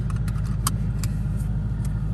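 2020 Ford Mustang GT with its 5.0 V8 engine rumbling low and steady while driving, a close, even throb with faint rattles and clicks from the cabin above it.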